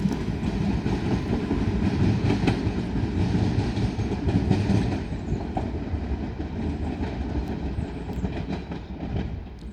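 A Southeastern Class 375 electric train pulls out of Tonbridge station, its wheels giving a steady, loud rumble with rhythmic clickety-clack over the rail joints and a faint squeal, continuous and close for the whole stretch.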